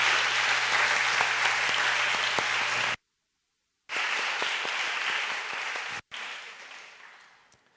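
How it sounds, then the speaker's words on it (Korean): A young adults' church congregation gives a sustained round of applause, dense, steady clapping from many hands, broken by an abrupt gap and then resuming before tapering off. "여러분 수고했다고 한번 격려의 박수 한번 해주시면 감사하겠습니다."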